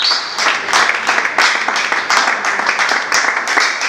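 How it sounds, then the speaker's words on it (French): An audience at an association event applauds with dense, steady clapping that keeps up evenly for several seconds and carries no speech over it. "Sous vos applaudissements, bien sûr."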